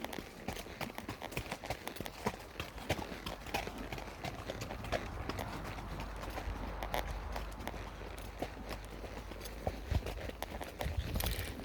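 A horse's hooves clop steadily on a dirt trail in the Cuyamaca mountains, an even walking rhythm close by, with faint outdoor ambience and no talking.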